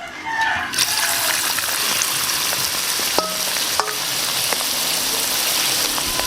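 Pork intestine chicharon isaw frying in plenty of hot oil, a steady dense sizzle with crackling pops and spits throughout, close and continuous with no talking.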